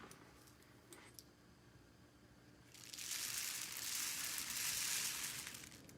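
Rice pours into a homemade rainstick: a few faint ticks at first, then a sustained, bright hissing rush of grains cascading inside the tube for several seconds, close and fairly loud.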